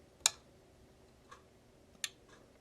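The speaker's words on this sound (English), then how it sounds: "I forgot to remove my clock from the wall. You can hear that ticking in the background." A wall clock ticking faintly in a quiet room, a few sparse, sharp ticks spaced about a second apart against a low background hum.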